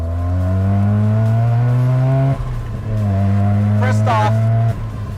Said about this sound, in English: this turbo noise and this motor noise in general is a very, very insane, it's just a crazy sound